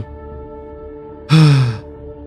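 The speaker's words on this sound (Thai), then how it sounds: "ชดสูดหายใจเข้าจนเต็มแผงอกแล้วขยาย" A deep, drawn-in breath fills a character's chest in an audio drama. It is a single loud, voiced intake that swells and then fades over about half a second, above a quiet, steady background.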